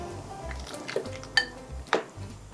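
Rice cake slices for tteokguk dropped into a metal pot, a few sharp clinks and knocks against the rim over low kitchen background noise, with no talk.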